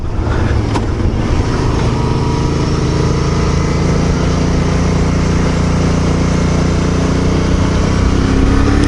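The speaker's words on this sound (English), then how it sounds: "But it's got a nice little V-twin motor." Kawasaki VN250 Eliminator with its small V-twin engine, running steadily and loud throughout, a continuous droning hum close to the rider with no speech over it.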